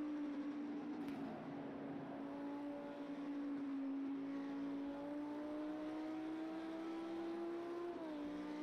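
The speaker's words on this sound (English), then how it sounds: "Car seems so quiet to me." GT3 or LMP1 race car engine from Project Cars 2 at Road America, a sustained drone holding a steady tone that slowly rises, then dips briefly near the end, fairly quiet with no talk.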